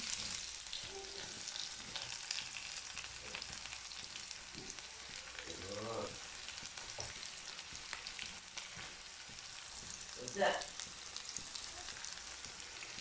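Chopped onions hit hot oil in a pan where mustard seeds are already popping. The frying hisses and sizzles quietly and steadily, with occasional stirring scrapes and small crackles, and no voices.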